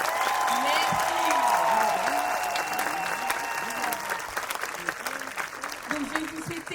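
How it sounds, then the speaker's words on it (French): A crowd at a festival parade in France applauds the participants, a thick burst of clapping that slowly thins out, with a voice talking over it and some tonal sounds in the background. "je vais vous demander un tonnerre d'applaudissements pour tous ces valeureux participants"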